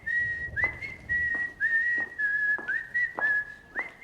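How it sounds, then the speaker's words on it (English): A melodic whistled tune, Bernard Herrmann's Twisted Nerve theme as heard in Kill Bill, with a sustained note repeated in short phrases, clear and close with faint background beneath. "The tune Daryl Hannah's whistling was written by Bernard Herrmann for the 1968 film Twisted Nerve."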